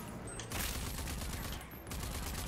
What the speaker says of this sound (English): Time to shoot these fuckers.